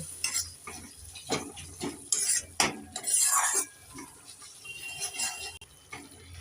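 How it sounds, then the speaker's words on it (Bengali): Spice masala with turmeric stirred and frying in a pan for a cauliflower and egg curry, with spoon scrapes against the pan and a soft sizzle in bursts, fairly close, without talk. "এবার নেড়ে চেড়ে মশলাটাকে আমি তিন মিনিট ভালো করে কষিয়ে নেব"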